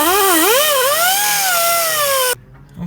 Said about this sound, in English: I'm probably going to hit it with a wire wheel.